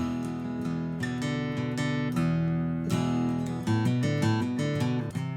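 An electric guitar plays a riff as a clear run of sustained single notes and chords at a steady rhythm, close and loud with no voices.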